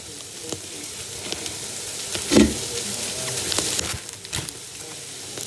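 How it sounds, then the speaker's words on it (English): About three pounds of chopped meat sizzles steadily in a pot for chili, a close, continuous frying hiss with a few louder crackles and the scrape of a utensil breaking it up. "I'm going to put the chopped meat in now."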